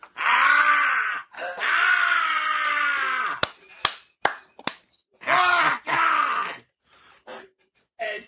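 A man imitates a Ric Flair wrestling scream in long, drawn-out, strained wails, then breaks off into a few sharp slapping cracks before a final short burst of screaming.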